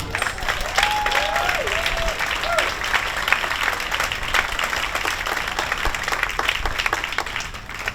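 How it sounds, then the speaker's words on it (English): Audience at a Hollywood Museum awards event applauding an honoree, a steady dense wash of clapping sustained for several seconds at even loudness, with a few cheers and whoops rising early on. "Let's give her a round of applause."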